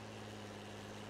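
A tractor engine in Farming Simulator 19 drones steadily while plowing a field, a low, even, continuous hum with no breaks and no voices.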